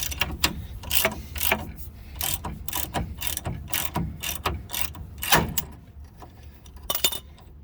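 A ratchet tightens a ball joint separator tool on a two-wheel-drive Chevy S10, rapid close clicking strokes in an uneven rhythm with metallic clatter throughout.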